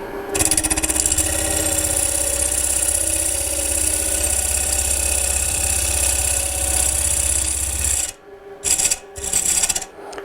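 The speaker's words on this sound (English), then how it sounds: "I've speeded the lathe up now to about approximately 1000 RPM" Wood lathe turning a workpiece at roughly 1000 RPM, a steady loud whirring hum with a rasping tool-on-wood scrape running continuously, then cutting out into short bursts near the end.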